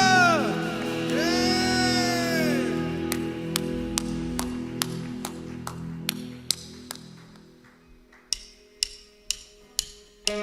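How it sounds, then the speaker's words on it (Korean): A young adults' Sunday worship congregation in a church claps together in a steady rhythmic beat of sharp, evenly spaced claps after a sung, sustained musical passage fades. "더 큰 박수로 우리 주님께 영광을 드립시다"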